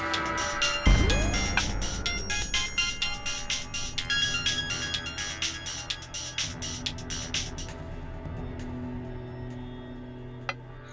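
A mobile phone rings with an incoming call, its repeating melodic ringtone chiming in steady pulses after a sharp opening click, clear and fairly close, with no voices over it.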